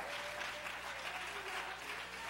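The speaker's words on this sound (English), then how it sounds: "Somebody clap your hands to the Lord." A church congregation claps hands in praise, a dense, continuous rattle of many hands filling the space at a moderate, steady level for a few seconds.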